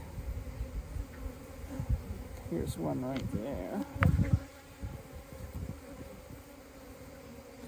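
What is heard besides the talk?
honey bees and drone bees buzzing during hive inspection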